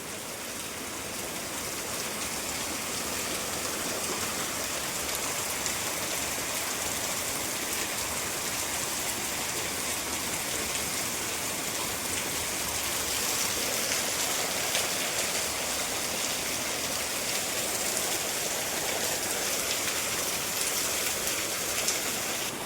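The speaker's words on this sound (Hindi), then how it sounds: "आज रात से ही जो बारिश हो रहा है" Steady rain falls through a morning after pouring since the night before, a dense, even hiss of drops spattering on surfaces that continues unbroken and fairly loud, with no voices.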